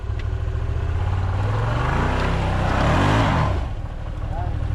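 Off-road cage build vehicle climbing a ledge, its engine revving up hard to a loud peak then easing off, with people talking over the engine noise.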